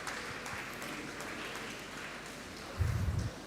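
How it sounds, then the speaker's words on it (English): Steady roomwide applause from the audience at a Model United Nations opening ceremony, dense and even throughout, with a low rumbling thump near the end. "Please welcome him with a loud round of applause."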